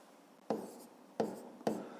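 Pen strokes on paper during a fifth-grade math exercise: three short, sharp scratches spaced apart over a quiet background, with no voices.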